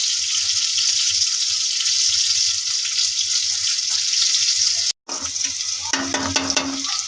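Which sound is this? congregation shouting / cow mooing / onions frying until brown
onions frying until brown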